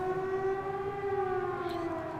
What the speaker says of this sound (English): It sounds like a siren.